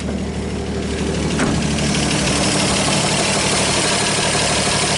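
A 1939 Chevrolet Master 85 barn-find engine, with valves not yet adjusted, idles steadily and loudly close by with a rough, uneven knocking beat and no talk.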